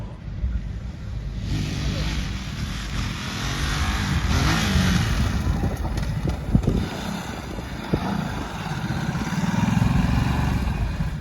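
A Ducati Desert X motorcycle is ridden on a track, its engine note rising and falling at a distance under heavy wind buffeting on the microphone.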